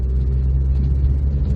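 A 1994 Renault 5 1.4 Campus with its OHV Cléon-Fonte petrol engine idles steadily nearby, a smooth low rumble with a constant hum and no voices.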